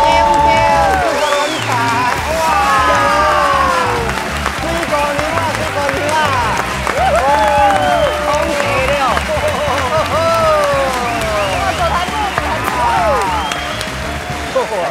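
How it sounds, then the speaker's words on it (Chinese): An audience claps steadily to welcome a guest being introduced on a travel show, a continuous patter of applause under loud, ongoing voices. "掌声鼓励一下！"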